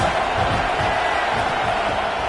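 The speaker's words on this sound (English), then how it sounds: "This crowd trying to make life miserable for this offense." Roaring football stadium crowd at a Georgia versus Florida State game, a loud continuous wall of cheering and yelling that stays dense and steady throughout, with no clear single voice standing out.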